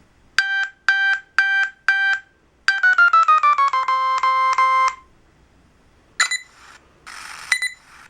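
Dexcom CGM alert tones played from a phone: two sets of sharp electronic beep patterns, first four short repeated chirps, then a rapid descending run of beeps, followed by brief higher trills after a gap.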